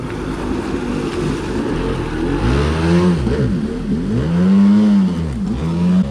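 A Yamaha WaveJammer 650 jet ski engine idles roughly and then revs hard several times as the throttle is squeezed, each rev rising and falling in pitch, loud and close.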